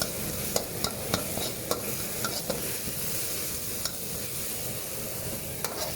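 Chilies, kaffir lime leaf and seafood fry in hot oil for a Thai dish, a steady close sizzle broken by repeated sharp clicks of a utensil stirring the pan.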